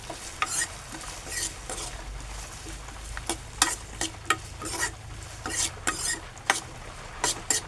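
Finely chopped hot green chillies and onions sautéing in a pan: a low continuous sizzle broken by frequent sharp spatula scrapes and clicks, close and fairly loud throughout.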